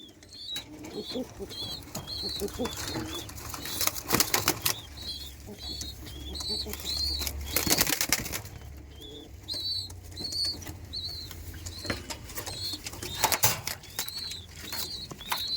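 A pigeon that has lost the ability to walk coos repeatedly in the background while bursts of wing flapping come and go, with faint rustling around them.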